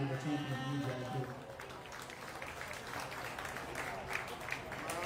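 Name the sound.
crowd applauding at a county fair sheep show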